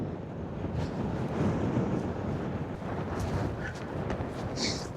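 Heavy storm wind on the Norwegian coast buffets the microphone with a continuous loud rumbling roar, steady gusts and no voices.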